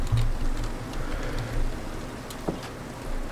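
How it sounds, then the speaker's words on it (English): Steady rain falling in the video game Minecraft, a soft continuous patter with a few sharper drip ticks, heard alone at moderate level without talk. "It's still raining, so nobody's gonna want to work on it."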